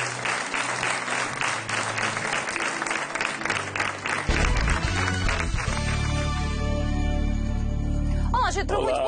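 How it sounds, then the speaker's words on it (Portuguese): Studio audience applause on a Portuguese afternoon TV show, a full burst of clapping for about four seconds, then giving way to loud studio music and sound that runs to the end. "Um grande aplauso."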